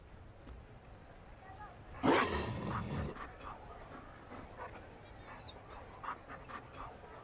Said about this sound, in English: They don't breed Mabari in Olay.